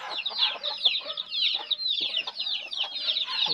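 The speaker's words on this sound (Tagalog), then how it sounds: "bagong pisa na ang bibi ko. Oh, mga bibi." Newly hatched ducklings peep in a busy, high-pitched chorus of overlapping chirps, close and steady, with no voices over them.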